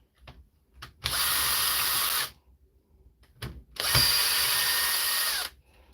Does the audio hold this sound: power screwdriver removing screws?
yes